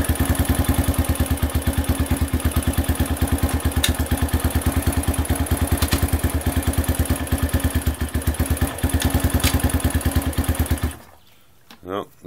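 A kick-started dirt bike engine idles on half choke while left in gear, putting out a steady, close, rapid thumping for about eleven seconds before it abruptly cuts out.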